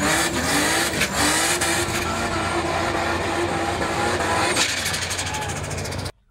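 A loud, rough engine drones steadily close by, with a broadband rumble that cuts off abruptly at the end.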